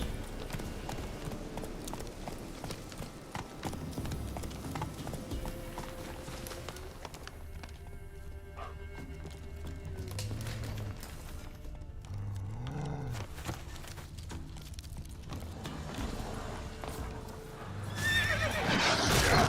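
Roach the horse in The Witcher 3 neighs and clip-clops at a trot amid steady in-game ambience, with a louder burst of hooves and motion toward the end.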